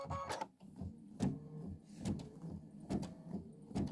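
An embroidery machine stitches a quilt block with a steady, rhythmic mechanical chatter, each cycle punctuated by a regular clunk roughly every second, close and moderately quiet.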